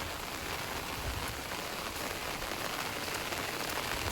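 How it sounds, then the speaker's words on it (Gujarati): Heavy rain pours steadily on surfaces in a Gujarat village, a dense, even hiss that carries on without a break and with no voices. "વરસાદ પણ ફૂલ પડ્યો છે અને હજી બી વરસાદ આવે છે"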